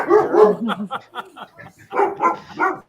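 Several dogs bark and yip in quick, irregular bursts, fairly close and loud, with some whining between barks.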